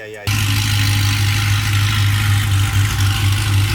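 A modified 1000 hp Cadillac CTS-V sedan with methanol injection idles nearby, a loud, deep, steady rumble with a lumpy low throb that kicks in abruptly after a short quiet moment.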